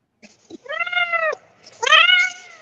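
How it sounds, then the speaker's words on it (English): A nearby cat gives two loud, drawn-out meows, the second longer and stronger, with a few faint clicks before them in an otherwise quiet room. "I assume that was a cat."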